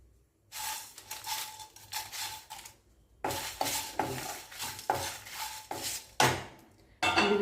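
Dried red chillies dry-roasted in a hot pan, with repeated bursts of a spatula scraping and stirring against the metal, loud and close, separated by brief pauses.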